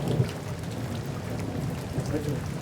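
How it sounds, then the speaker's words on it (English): Steady rain pours with a deep, continuous thunderstorm rumble underneath, a dense wash of sound with no pauses, like a storm heard from close shelter in Namibia. "Sitting out a thunderstorm once again."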